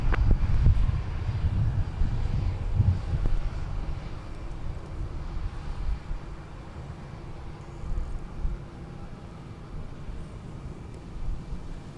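A United airliner arriving from Denver at Minneapolis–St. Paul airport, heard as a continuous low jet rumble that is loudest at first and slowly fades, distant and steady with no speech.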